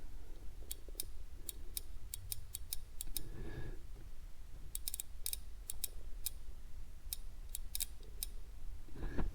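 Relay in a PC power supply clicking and chattering, with sharp, close, quiet ticks in irregular bursts over a faint hum, some clustered into rapid chatter and others spaced apart.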